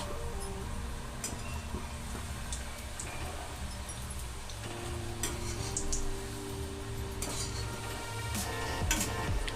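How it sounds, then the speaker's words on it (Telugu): Cut pieces of wheat flour (atta) biscuit dough deep frying in hot oil, giving a steady bubbling sizzle with occasional clinks and scrapes of a metal spoon stirring against the pan. "ఇప్పుడు మనం కట్ చేసి పెట్టుకున్న బిస్కెట్ ముక్కలను ఇందులో ఆయిల్లో వేసుకొని ఫ్రై చేసుకుందాము"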